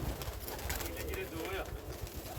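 Pigeons coo in a low, continuous murmur at a loft holding many breeds, including a red-eyed blue jeera bird, while someone talks over them.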